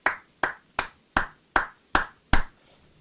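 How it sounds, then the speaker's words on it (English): Seven sharp, evenly spaced hand claps, about two or three a second, ring out clearly and close by, like one person applauding alone for participants on a call. "round of applause, guys, for everybody on this call"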